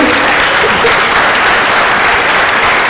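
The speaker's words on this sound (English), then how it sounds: "I give her a round of applause." Dense, loud audience applause at a youth and justice forum, a continuous wash of many hands clapping throughout.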